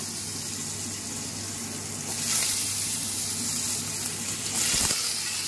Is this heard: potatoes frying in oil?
yes